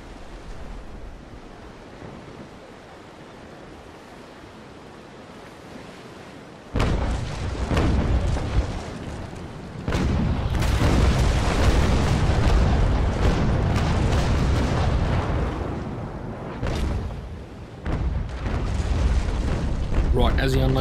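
A sailing ship's cannon broadside in the naval battle game Naval Action, deep booming blasts rolling into a sustained roar of heavy fire and surf-like rumble, loud and close, following a quieter stretch of ocean ambience.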